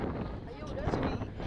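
Strong wind buffets a microphone outdoors on a Copenhagen street, a steady low rumbling roar across the whole moment with no clear break.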